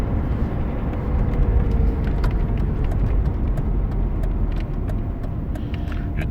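A Mercedes project car on firm springs cruises along the road, with a constant low engine drone and road rumble heard from inside the cabin and no speech.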